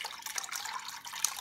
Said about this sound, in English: Next, we're going to pour all of this through a strain.